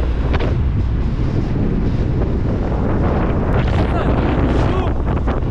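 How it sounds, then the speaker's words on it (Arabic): A strong windstorm with dust batters a motorcycle rider on a road near Kelaat Sraghna, a loud continuous roar of wind buffeting the microphone, with a voice faintly heard under the blast. "الشوق الريح والعجاج"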